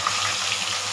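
Potato and eggplant frying in hot mustard oil with black cumin and green chillies, a steady dense sizzle holding close and even for the whole second with no voices.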